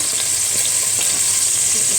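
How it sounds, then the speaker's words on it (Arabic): Onion dropped into a hot pan for a bean-and-meat stew fries with a steady, dense, close sizzle that holds evenly throughout, with faint crackles and no talking. "يبتدي يسخن هحط البصلة بتاعتي"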